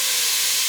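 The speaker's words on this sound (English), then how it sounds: "when you're frying pork like this, everything smells like bacon?" Pork frying in a pan for a stew, a brief, steady, bright sizzle with no talking.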